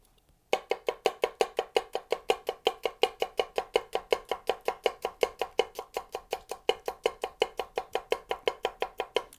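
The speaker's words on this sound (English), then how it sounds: "Even if you want to get a little rock chop going, it'll work with these more triangular style blades with the knuckle clearance." Brussels sprouts are rock-chopped for slaw with a triangular utility knife, a brisk, even run of sharp taps on the cutting board, dozens of close strikes in steady rhythm.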